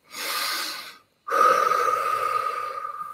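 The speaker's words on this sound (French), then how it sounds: "On va respirer un petit peu." Deep breathing exercise led by a voice: one long airy breath, a brief pause, then a second longer breath out with a steady tone, close and alone.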